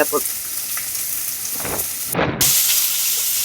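Sliced onions sautéing in a pan for homemade Tamil-style chicken gravy, a soft continuous sizzle and hiss with a few stirring knocks and a brief louder clatter partway through.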